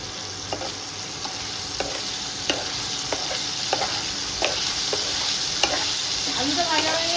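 Potatoes fry in a pan with salt, giving a constant sizzle broken by regular clicks and scrapes of stirring, close and clear with no talking.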